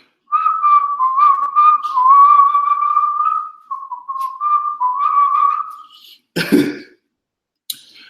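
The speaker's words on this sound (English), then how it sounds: "My voice, I'm about to be whistling on you." A person whistles a wandering tune for several seconds, pauses, resumes, then coughs sharply near the end.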